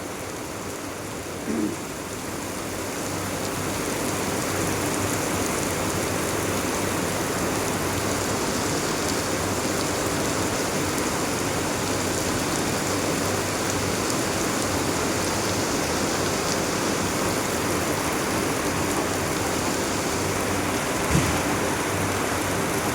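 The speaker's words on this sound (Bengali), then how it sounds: "খুব পরিমাণে বৃষ্টি হচ্ছে আমাদের এখানে" Heavy rain pours down at a plywood factory in a dense, constant roar, loud and unbroken throughout, with no voices.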